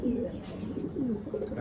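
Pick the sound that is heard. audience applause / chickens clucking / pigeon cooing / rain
pigeon cooing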